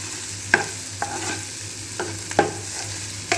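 Coconut, coriander leaves, coriander seeds and green chillies frying in a pan: a low continuous sizzle punctuated by a handful of sharp stirring clicks and scrapes, close up and alone.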